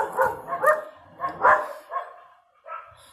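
Several dogs bark in short bursts close by, a few yips and barks scattered over about three seconds with brief pauses, no talking.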